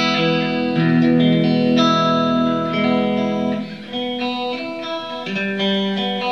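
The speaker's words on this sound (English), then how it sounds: "That's got the great spring reverb." An electric instrument played through a Fender Twin Reverb's spring reverb, loud sustained chords with a wet, washy, chorus-like shimmer and lingering tails, no talking.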